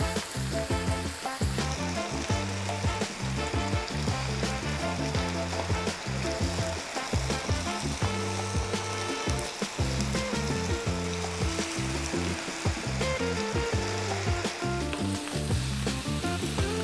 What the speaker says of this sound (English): about another 4 minutes on this medium-ish heat. Stirring every now and then.